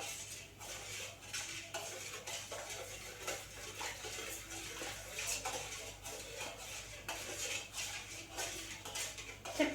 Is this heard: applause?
no